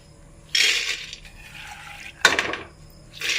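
Water splashes into a pressure cooker holding green gram in a home kitchen, in two short pouring bursts with a third starting at the end, close and moderately loud.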